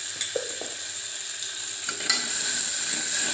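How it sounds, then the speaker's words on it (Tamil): Shallots sauté in a hot pan, giving a steady, fairly loud frying hiss that grows a little fuller toward the end, with a few brief stirring scrapes and clinks early on. No one speaks. "சின்ன வெங்காயம் போட்டு நல்லா வதக்கிக்கலாம்"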